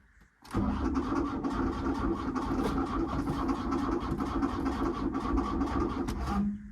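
The engine of a 1988 VW Caddy Mk1 pickup, found on a farm after more than 25 years, cranking over: a sudden start followed by about six seconds of steady, even churning at close range, then a stop.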